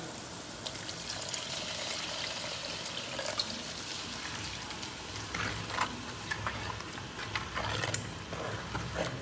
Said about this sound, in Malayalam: നമുക്ക് വെള്ളം ചേർത്ത് കൊടുക്കാം.